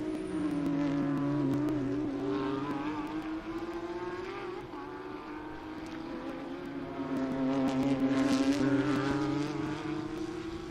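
A Lamborghini race car laps the Sebring racetrack in a historic TransAm and GT race, its engine droning loud and close, fading slightly mid-pass and then swelling again as it revs harder.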